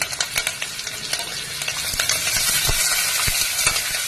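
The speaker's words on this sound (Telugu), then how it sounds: "బాగా వేగనివ్వాలండి." Onion, green chili and curry leaves sizzle and fry in a pan for a zucchini curry, with steady crackling up close and repeated scraping stirs of a spoon. No one speaks.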